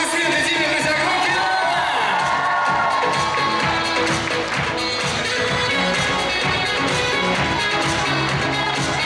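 Loud cheering, whoops and clapping from an audience at a student Miss and Mister university pageant, a dense crowd roar running steadily throughout.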